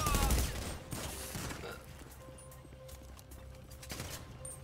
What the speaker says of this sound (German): Okay, von wo schießt du?